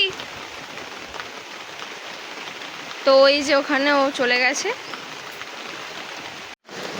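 Heavy rain falling outdoors as a steady, dense hiss throughout, with a person speaking briefly over it partway through.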